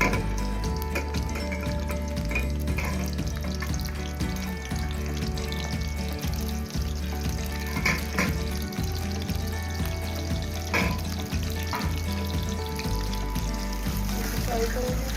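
Finely chopped onion frying in hot oil for daal maash, a dense, continuous sizzle and crackle with a busy watery texture, close up and with voices over it at times.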